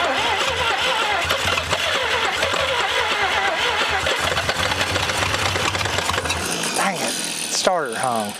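An abandoned 1947 International Harvester KB3 fuel truck's engine cranks over and runs, rough and loud up close in a steady churning drone, before it cuts out near the end and a brief voice is heard.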